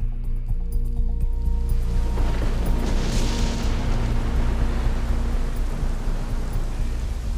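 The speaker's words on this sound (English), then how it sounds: "Alright, and it looks like it's started to rain." Rain falling at Mother Base in the Metal Gear Solid V: The Phantom Pain video game, a dense, steady hiss that persists throughout with a low rumble beneath.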